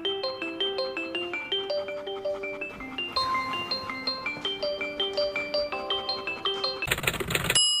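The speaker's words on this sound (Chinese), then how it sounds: "已为您查找手机" A phone rings after a Xiaomi Mi AI Speaker is asked to find it. A bright, plucked-chime ringtone melody repeats steadily at moderate volume and ends with a brief burst of harsher noise, with no voices.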